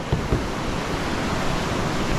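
River rapids rush and churn around a rafting boat on a white-water run, a loud, continuous roar of turbulent water with a couple of splashy bursts near the start and no voices.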